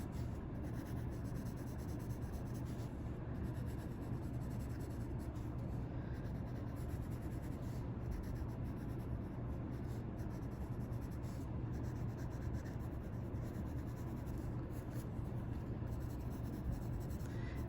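A pencil shades lines on paper in a continuous, even scratching and rubbing, close and steady for the whole stretch without pauses.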